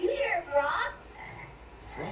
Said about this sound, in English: There must be a lot of frogs around this pond.